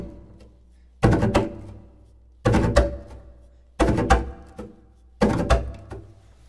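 A double bass bowed with the triple chop technique plays four short percussive bursts of scraping, choppy strokes, evenly spaced and close, with quiet gaps between.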